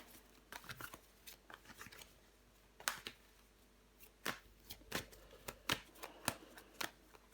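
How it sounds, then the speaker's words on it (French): Tarot cards are handled, shuffled and laid down to cover others, giving a quiet, close series of crisp slaps and flicks in irregular bursts with no talking. "On va recouvrir des cartes."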